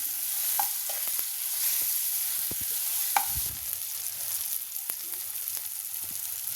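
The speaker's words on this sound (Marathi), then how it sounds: "कांदा आणि टोमॅटो चांगला परतून झाल्यावर" Onion and tomato sautéing in a pan, a soft continuous sizzle broken by occasional spoon knocks and scraping strokes against the pan, no voices.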